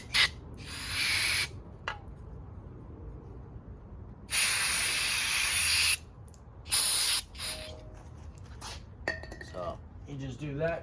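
Short bursts of aerosol brake cleaner sprayed on a non-running Honda Spree scooter, several loud hissing blasts of a second or more, with pauses and faint clinks between them.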